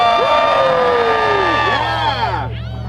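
Rally crowd at a marriage equality gathering cheering and whooping loudly and continuously, a dense wash of raised voices close and steady, easing slightly near the end.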